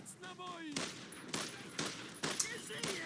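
Bursts of enemy rifle and machine-gun fire in the World War II shooter Brothers in Arms: Road to Hill 30, several loud cracking volleys in quick succession, with a faint voice early on.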